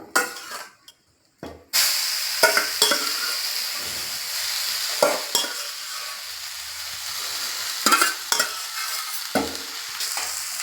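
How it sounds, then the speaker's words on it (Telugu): Grated fresh coconut and moong dal roasting in a pan for sweet stuffed buns, a soft continuous hiss broken by sharp scraping stirs against the metal, close and fairly loud with short pauses. "దీనిలోనే మనం పెసరపప్పు కూడా వేసేసుకుందాం."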